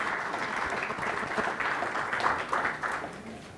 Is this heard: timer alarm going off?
no